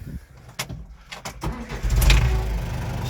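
A Case 4210 tractor engine cranks with a few sharp starter clicks, then catches and settles into a steady, close-by diesel run.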